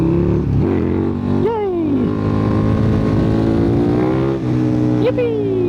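A 1300cc liquid-cooled V-twin motorcycle revs hard through a wheelie, its engine note rising in two sharp sweeps over a steady loud drone, close to the rider's microphone.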